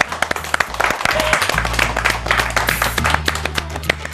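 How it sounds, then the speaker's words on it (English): An audience applauding at a morning event about eco-friendly couture fashion, dense sustained clapping with sharp individual hand claps, fairly close, with some voices mixed in underneath. "Round of applause for all of you."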